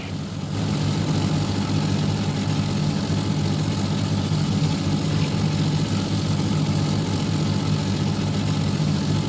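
F2A Buffalo propeller fighter droning in World of Warplanes, a continuous, even engine hum with a low propeller throb held steady throughout, no voices over it.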